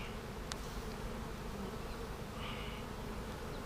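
A dense, continuous buzz of many honey bees at the hive of a package colony fills the air, steady and close, with no voices.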